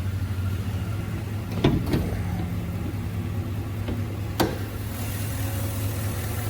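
The 6.2 liter engine of a 2019 Ford F-350 Super Duty XLT pickup idles quietly and steadily with a low, even hum, with a few faint clicks and taps nearby.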